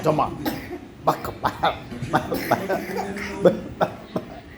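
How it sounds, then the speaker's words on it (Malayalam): Someone coughs repeatedly in short, rough bursts, mixed with chuckling and talk in a noisy room. "ചുമ"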